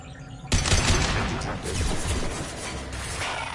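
Heavy gunfire in Mass Effect Legendary Edition erupts after a brief quiet start, a dense, sustained volley of shots and blasts that stays loud and continuous to the end with no talking.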